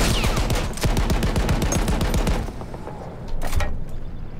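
A tank's machine gun in Battlefield 1 rattles off a loud, rapid, evenly spaced burst for a couple of seconds, then falls to scattered shots and rumbling battle noise.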